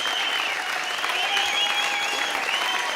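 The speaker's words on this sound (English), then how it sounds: "The crowd goes wild." Crowd cheering and applauding at a 1998 TV studio performance in Melbourne, a dense, steady roar of clapping and shouts filling the whole stretch without a break.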